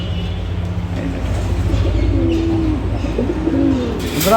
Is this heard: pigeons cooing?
yes